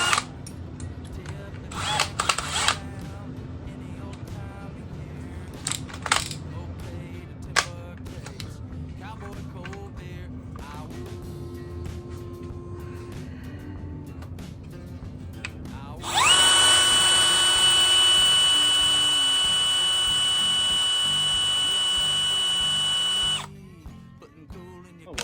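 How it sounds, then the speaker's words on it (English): A power drill drives a self-tapping screw into aluminum on a kayak being motorized, a loud steady whine lasting about seven seconds, preceded by scattered clicks, handling and brief talk. "the self-tapper will drill itself into the aluminum"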